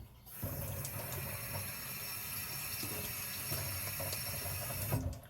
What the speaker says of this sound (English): to prep your pepper, wash it